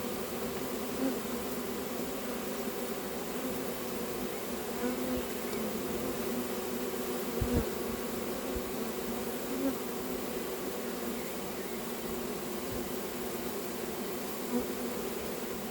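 A swarm of honeybees clustered on the grass hums steadily and densely throughout, a continuous close buzz with no voices, with a brief soft knock partway through.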